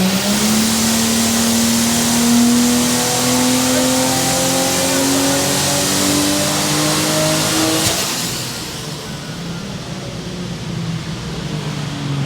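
A Ford Barra-engined car on a dyno during a dyno day winds up in one long pull, the engine note climbing steadily for about eight seconds before easing off into a lower idle rumble.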